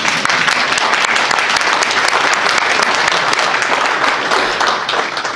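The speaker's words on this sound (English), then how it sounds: "go ahead, you can clap" Audience clapping at an honors event: dense, sustained applause from a sizable crowd, loud and even throughout before easing slightly at the very end.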